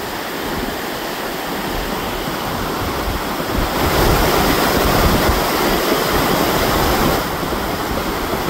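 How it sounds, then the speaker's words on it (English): Spring snowmelt runoff rushes along a ditch in a steady, loud wash of flowing water that swells slightly in the middle, with a touch of wind on the microphone and no voices. "Spring runoff. Cool stuff."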